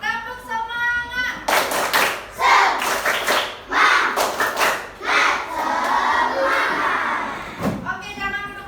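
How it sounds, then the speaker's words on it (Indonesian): A fourth-grade class repeats the 'tepuk semangat' clapping chant, with loud rhythmic claps and energetic shouted children's voices close by, set between brief spoken lines from an adult at the start and end. "Sekali lagi. Tepuk semangat."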